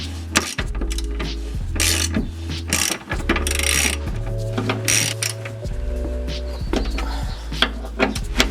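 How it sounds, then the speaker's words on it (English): A ratchet wrench clicks rapidly in repeated bursts while lower control arm bolts are loosened under a car, close and loud with metallic rattles between strokes and no talking. "We're going to remove the lower control arm bolts"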